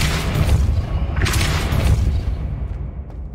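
Depulso, a force-push spell, cast in the Hogwarts Legacy video game: a loud booming whoosh that swells into a broad burst near the middle, over a steady low rumble that fades toward the end.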